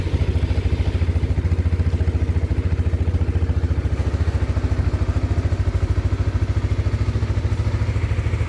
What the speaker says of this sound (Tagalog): Paandarin muna natin tong motor